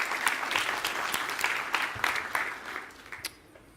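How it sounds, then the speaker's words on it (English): A conference audience claps in a steady round of applause that gradually thins and fades out toward the end. "One more last round of applause."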